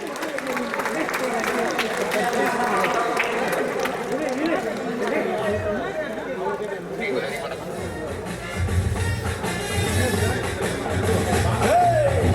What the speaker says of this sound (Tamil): ட்ரெயிலருக்கு உங்களோட கைத்தட்டுகள் ப்ளீஸ்